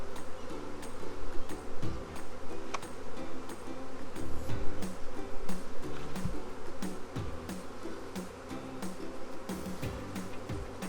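A swarm of honey bees congregates on a hive lid, buzzing in a dense, continuous droning hum up close, with scattered clicks and bumps over it.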